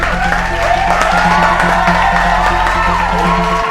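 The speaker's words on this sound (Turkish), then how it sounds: "Şimdi alkışla alalım diyorum" Studio audience cheering and applauding to welcome a guest on a Turkish food challenge show, a steady, loud crowd roar with musical tones running throughout.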